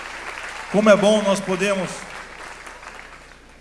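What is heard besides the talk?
church congregation applauding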